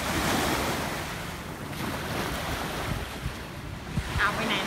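Sea waves wash in at Jomtien Beach in the evening, a loud continuous surf roar layered with strong wind buffeting the microphone and a few brief thumps near the end.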